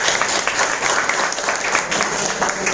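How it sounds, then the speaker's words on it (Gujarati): An audience at a business presentation applauds for a distributor, giving dense, sustained clapping from many hands at close range that fills the whole moment. "બીજી તાળી થઈ જાય આપણા સ્નેહલભાઈ માટે"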